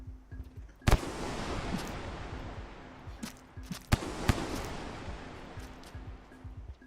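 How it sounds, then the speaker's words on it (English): Explosions in the video game Rain World: a few sharp, sudden blasts over a continuous rumbling game soundscape, moderately loud, with no talking. "I might have to lower the volume of the game for all these explosions"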